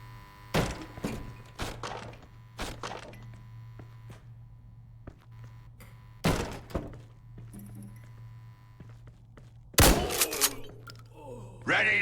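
Gunfire from a tactical squad clearing a hallway in Door Kickers 2 comes as sharp, separated bursts and single shots with pauses between them, over a constant low electrical hum.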